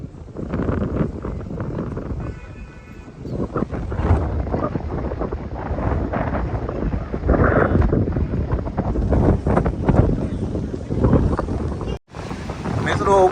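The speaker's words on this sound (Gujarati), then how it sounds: "હવા પણ ચાલી રહી છે વધારે" Strong, steady wind buffets the microphone beside a dam brimming after very heavy rain at Morbi, a constant loud roar of gusts with a voice talking under it.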